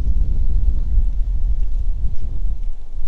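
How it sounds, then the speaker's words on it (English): Steady low wind buffets and rumbles across a lake around a fishing kayak near a tree, a continuous gusty roar with no voices. "that wind is kicking"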